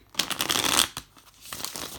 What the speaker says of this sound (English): I'm going to shuffle them back in.